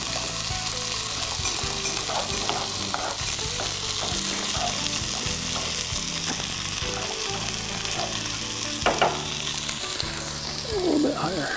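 Scrambled eggs frying in a pan alongside potatoes and Jimmy Dean sausage, a steady close sizzle with occasional stirring scrapes and clinks throughout, no talking.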